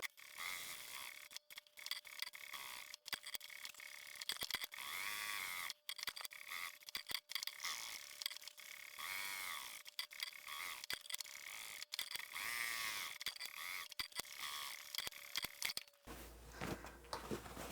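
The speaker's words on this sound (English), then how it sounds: "Let's take this to the machine, and we're now going to top stitch all the way around the entire piece." A sewing machine top stitching around the edge of a fabric craft pouch, with quiet runs of rapid mechanical stitching broken by short pauses and a brief change near the end.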